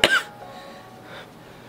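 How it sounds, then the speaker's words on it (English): A single short, forceful cough up close, followed by quiet room tone. "I'm sorry, I'm gonna be coughing through this whole thing."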